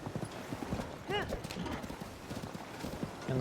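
A horse's hooves clip-clop at a steady gait along a path in the video game Zelda: Tears of the Kingdom, with a brief whinny-like effect and game ambience underneath.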